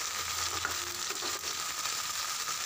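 Lafa greens (leaves and tender stems) dropped into a hot pan and frying, a steady close sizzle with faint stirring scrapes, no talking.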